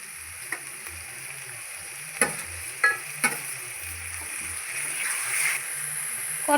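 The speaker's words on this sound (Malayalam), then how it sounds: "ഇതിലേക്ക് തക്കാളി ഇട്ട് കൊടുക്കാം. ഇതിലേക്ക് പച്ചമുളക് ചതച്ചതും കൂടി ചേർത്ത് കൊടുക്കാം" Tomatoes and crushed green chillies hit hot oil in a pot for chicken biryani, giving a soft, even sizzle with a few sharp spoon knocks and stirring scrapes.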